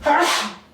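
A single short, sharp sneeze, close by.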